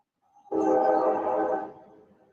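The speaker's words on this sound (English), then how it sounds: "There goes the train." A train rolls past a lakeside fishing spot, its horn sounding a loud, sustained blast that starts abruptly and holds for about a second before fading into rumble.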